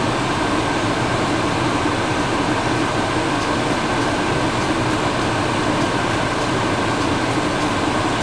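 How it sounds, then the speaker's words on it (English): A car's air conditioner blows hard on a hot day, a loud, steady broadband roar of fan and airflow that fills the cabin without a break, with no talking over it. "Sorry for my air conditioner is loud, y'all."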